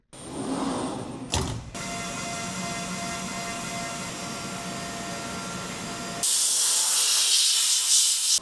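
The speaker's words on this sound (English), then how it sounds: "We're ready to post this out to the machine and start cutting." A CNC machine cutting a bottle opener part, giving a steady loud hiss and whir with a brief clunk early on, then a harsher, brighter spray of noise in the final seconds.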